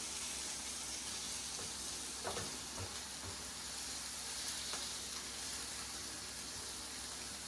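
Butter garlic shrimp fry in a pan, giving a faint, steady sizzle with a few soft scraping knocks from stirring and no talk.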